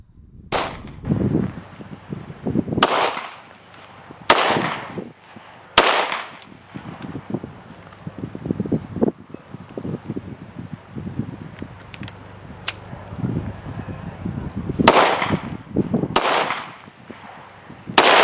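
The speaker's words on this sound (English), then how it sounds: "every shot went into the target without any further mishap" A CZ 75 pistol is fired at a target, producing sharp, loud shots spaced irregularly with a few seconds between them, against a quiet outdoor background and no talking.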